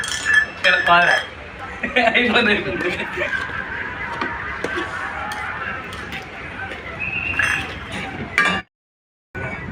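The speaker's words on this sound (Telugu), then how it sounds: "మా ఫ్రెండ్ చికెన్ కలుపుతున్నాడు" A friend stirring chicken curry in a pot, with repeated clinks and scrapes of a utensil against the pot, fairly close, over steady kitchen background and voices talking, ending in a brief silence.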